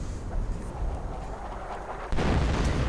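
Artillery and a Wehrmacht mortar fire in Company of Heroes 2, heard as a dense, rumbling battlefield roar that jumps louder in a sudden heavy blast near the end, with no voice.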